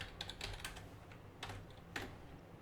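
Quiet clicking of keys as someone types on a computer keyboard at a terminal, short irregular bursts of taps close by with no voices.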